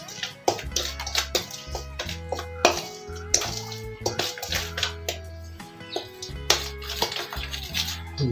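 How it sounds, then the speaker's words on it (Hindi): Chicken marinade masala with yogurt is mixed in a bowl, giving close, uneven spoon scrapes, clinks and wet squelches with a low hum underneath. "इसको अच्छी तरह से मिक्स करते हैं।"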